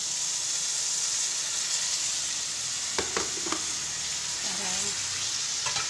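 Pork fries in a kawali, giving a steady, dense sizzle and hiss throughout, with a few brief utensil clacks and a faint voice partway through.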